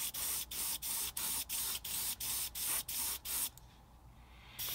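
Airbrush spraying gray paint in light passes over an HO scale model: about ten short, even bursts of hiss in a steady rhythm, then a quieter tail of air.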